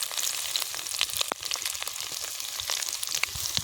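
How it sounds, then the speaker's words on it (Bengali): Ginger, garlic and chilli crackle steadily in hot oil, a dense close-up sizzle with sharp spits and pops scattered throughout, and no voices. "তো চলো তেল গরম হয়ে গেছে, আদা রসুন আর লঙ্কা দিয়ে দেবো"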